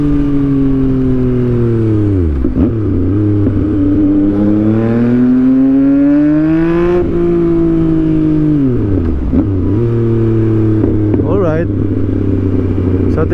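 A Yamaha MT-09 motorcycle rides on a short Sunday outing, its engine loud and close with strong rising and falling revs through gear changes, while a rider talks over it.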